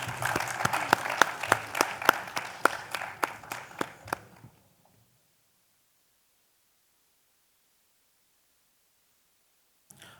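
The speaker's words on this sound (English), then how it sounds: "Guys, a round of applause, please," Audience applause for the speakers at a BSides Mumbai 2024 security conference panel: a burst of clapping from a crowd for about four seconds, tapering off into silence.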